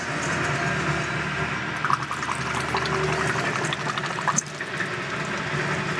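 Water runs out of an open pressure relief valve on an Atwood RV water heater as the tank fills, giving a continuous gurgling rush with occasional splashes and knocks up close.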